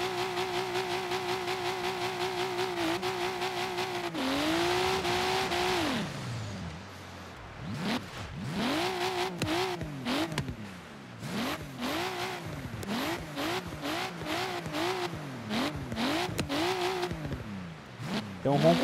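Turbocharged Nissan Silvia engine roaring in Forza Horizon 3, holding a steady loud drone, then revving up and down repeatedly through gear changes with rising and falling pitch, close and dominant throughout.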